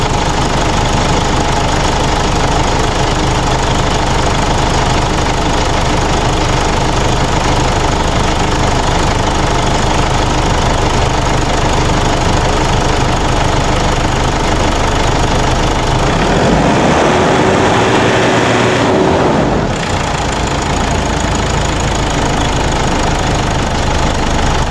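Ford Everest 2014 2.5 diesel engine with a check engine light and low power runs steadily after starting, a loud continuous knocking idle that stays constant, with a brief change in tone near the end.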